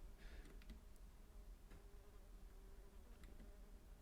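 A large fly buzzes in a video game, a faint, steady drone with a few brief louder passes, heard alone with no talking.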